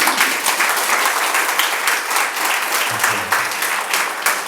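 An audience claps at a mental health program's musical evening, a dense, steady round of applause from many hands, loud and sustained throughout, with a faint voice briefly heard underneath.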